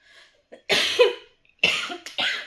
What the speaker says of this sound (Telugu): ఫుల్ కాఫ్ అండి, కాఫ్ కోల్డ్